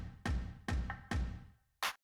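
Sampled drum hits with kicks and claps, completely dry with no reverb: three punchy booming hits evenly spaced, each decaying quickly, then a short bright clap at the end.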